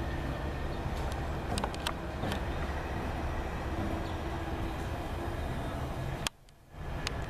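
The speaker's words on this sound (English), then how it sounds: "We have another southbound tri-rail coming with a Jeep 49 on lead with a Rotem Compass." A southbound Tri-Rail commuter train, led by a Jeep 49 locomotive with a Rotem coach, approaches with a steady, broad rumble and rail noise. The sound holds loud throughout, then drops suddenly near the end.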